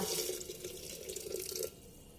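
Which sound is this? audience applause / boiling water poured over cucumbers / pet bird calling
boiling water poured over cucumbers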